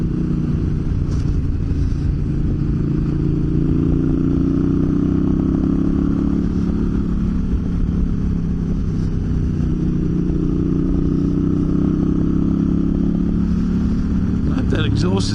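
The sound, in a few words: motorcycle engine and exhaust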